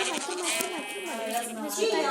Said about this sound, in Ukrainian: О, ще одна вівця.